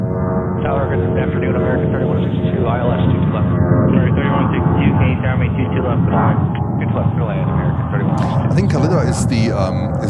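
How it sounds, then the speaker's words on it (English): An Antonov cargo aircraft descending toward JFK airport, a steady distant jet rumble that continues throughout while someone talks over it. "And the Antonov keeps descending."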